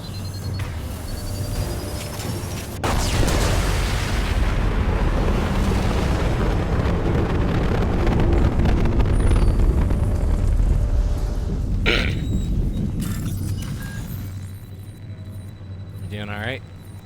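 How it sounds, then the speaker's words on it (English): A nuclear blast in Mass Effect 2 erupts with a sudden loud boom, then a long, dense rumbling roar that stays heavy for several seconds before slowly thinning out, while a voice speaks briefly near the start. "Clear the blast zone. Nuclear explosion."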